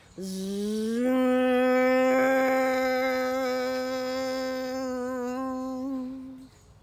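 A voice hums a steady, droning buzz imitating a lawnmower, one long sustained tone with a slight waver before it stops.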